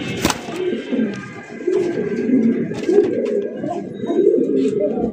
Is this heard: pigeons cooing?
yes